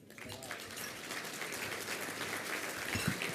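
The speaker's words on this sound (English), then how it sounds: "So you give a Channel 7 round of applause to my man," Audience applauding at a hall of fame ceremony, a steady wash of clapping that builds slightly toward the end, moderately distant and without speech over it.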